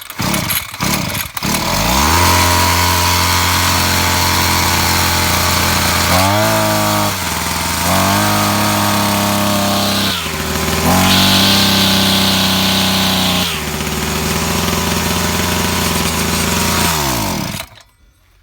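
A motorized brush cutter's two-stroke engine fires up and runs loud and close for about 17 seconds, its drone holding steady with a few revving surges and dips before cutting out; the machine had a fault of stalling when given throttle.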